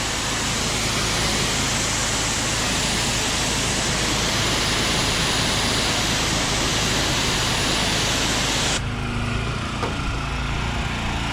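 Steady, loud broadband hiss of a pressure washer spraying water while washing a mobile home, continuous for most of the clip before cutting off to a quieter hum near the end.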